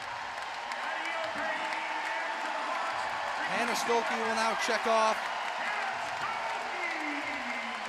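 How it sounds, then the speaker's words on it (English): A packed arena crowd at a women's college basketball game between Michigan and Iowa roars loudly and steadily throughout, with brief bursts of cheering and court sounds midway, under continuous talk from a commentator. "This crowd is still as loud as it was 2 hours ago"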